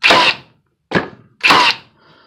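A Hitachi 18V cordless 15-gauge brad nailer driving nails into plywood and pine fires three loud, close, sharp thunks spaced under a second apart, with no talk.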